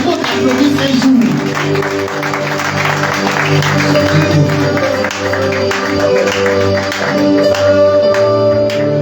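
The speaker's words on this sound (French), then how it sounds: "il faut applaudir les gens, il faut applaudir ces jours" A church congregation applauding during a Sunday praise and worship service, steady dense clapping throughout, blended with crowd voices and sustained background music.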